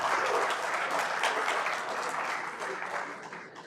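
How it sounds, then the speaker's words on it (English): Audience clapping for a guest at the opening of a golf tournament day in Accra, a dense burst of applause that slowly fades over a few seconds. "Shall we do a big round of applause for her?"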